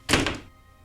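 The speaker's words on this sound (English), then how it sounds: "He ordered, and the door shut." A door shuts in an audio drama, a single close, solid thunk with a short muffled rattle that dies away quickly into quiet.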